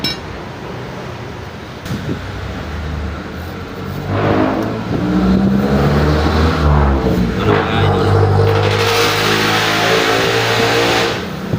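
Continuous road noise with car engines rising and revving as vehicles pass nearby on the road, someone briefly speaking in Filipino over it.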